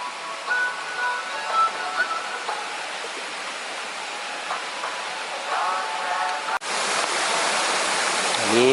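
Steady rushing water of Huai Sai Khao waterfall in Thailand fills the scene, a broad hiss of falling water, fairly close and continuous, with faint tones and a brief knock near the end.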